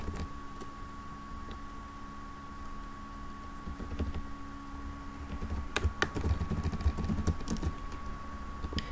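Computer keyboard typing as a username is entered into a web form: irregular light key clicks, sparse at first and then faster and denser, over a steady low electronic hum.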